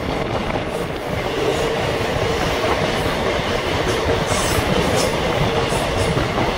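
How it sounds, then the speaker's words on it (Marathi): A Mumbai local train, the Dadar local, passes close by with a loud, continuous rumble and rattle of wheels on rails that holds steady throughout, with no voices. "ही दादर लोकल आहे, मुंबई लोकल."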